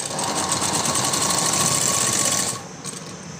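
Close, steady whirring of a sewing machine running a topstitched seam on a floral frock, holding an even rapid rhythm before cutting off sharply near the end, leaving quieter handling sounds.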